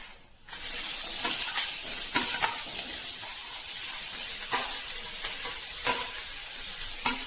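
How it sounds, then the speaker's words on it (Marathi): Cumin, mustard seeds, curry leaves and onion sizzle in hot oil, a dense continuous crackling fry close by, broken by a few spoon scrapes and stirring clinks, with no talking. "आता आपण त्यामध्ये जिरे मोहरी, कढीपत्ता, कांदा टाकून घेऊया।"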